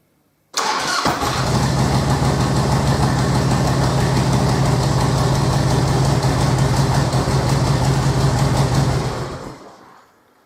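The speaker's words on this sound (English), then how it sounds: "I'm going to start the bike" A Harley-Davidson motorcycle engine cranks and fires after a brief moment of silence, then runs loud and close in a steady throbbing rumble for several seconds before fading out.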